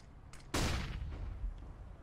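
A flashbang grenade goes off in Counter-Strike: Global Offensive as a single loud broadband burst with a long, noisy ringing decay, preceded by a faint click.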